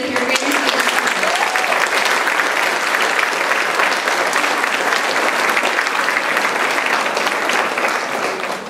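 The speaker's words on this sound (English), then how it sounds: "please give me a round of applause for being with your great students" Audience applause at a school spring concert for third and fourth graders, a steady dense burst of many hands clapping that holds for about nine seconds, fairly close and loud, with no talk over it.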